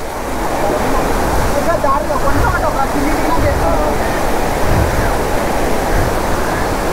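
A waterfall in full flow gives off a dense, steady rushing roar that stays constant throughout, with a voice speaking over the water.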